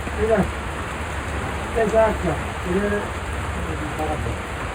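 Steady rain hisses throughout, with faint, muffled voices briefly audible beneath the downpour.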